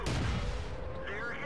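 A heavy enemy shell strikes a Churchill tank in World of Tanks, a loud booming impact with a rumbling low tail that fills the whole moment, close and dense.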